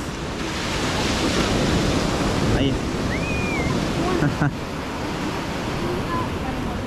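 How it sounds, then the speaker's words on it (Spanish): Big ocean surf breaks on a beach at Playa del Carmen on the Mayan Riviera, a loud continuous roar of waves mixed with wind buffeting the microphone, with a brief spoken word. "las olas grandes."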